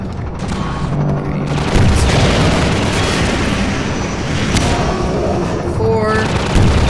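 Rocket explosions in Half-Life 2 gameplay, loud booming blasts that swell and fade over dense rumbling combat noise, with a voice talking through it.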